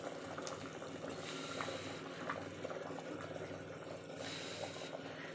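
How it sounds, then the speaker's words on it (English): Rice boils in a pot on the stove, a faint, steady bubbling and gurgling simmer with a few soft pops rising above it, heard alone without any voices. "my rice is cooking."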